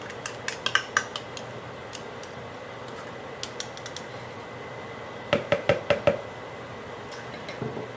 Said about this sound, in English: I'm going to beat this up a little bit more and put it in there.